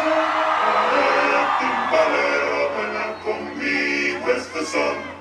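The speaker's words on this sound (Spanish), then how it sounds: "Se escucha el grito de guerra." A large crowd shouts a war cry at a packed night dance with a sonido sound system in Santa María, Chile, a sustained roar of whoops and yells with a few louder peaks near the end.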